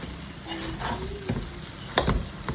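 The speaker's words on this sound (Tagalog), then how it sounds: "Haluin natin yan." Food for garlic fried rice being stirred in a hot pan, a close sizzle with a few scraping strokes and a louder clatter near the end.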